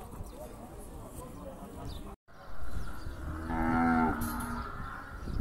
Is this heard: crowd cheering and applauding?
no